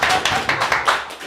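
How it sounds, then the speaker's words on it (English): A small indoor audience claps in a quick, uneven patter of close hand claps that rises briefly and then thins out within about a second. "You all can clap."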